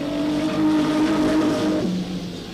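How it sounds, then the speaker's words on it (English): Eurocar V6 race cars from 1994 race on the Hednesford Hills oval, engines droning with a steady pitched whine that shifts downward as one passes, loud and close, with no talking. "the 3 competitive cars by the look of things at the moment are the 2 Dagenham Motors cars, plus Kevin Clark's number 4 car."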